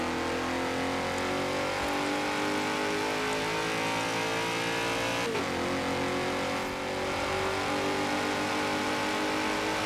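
A 2011 BMW X5 M in Forza Horizon 4 launches and accelerates hard, its engine a loud continuous roar climbing in pitch, with a quick gear change partway through and no talking.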